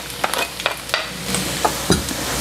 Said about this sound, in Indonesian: Sekarang saya tumis bumbu